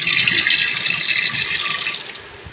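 Tap water runs steadily into a sink while leafy greens are washed, a continuous close hiss and splash that fades slightly toward the end.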